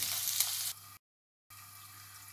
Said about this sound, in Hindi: 2 मीडियम साइज का आलू इस तरह कट किया है इसे डाल देते हैं। उसको थोड़ा सा भून लेंगे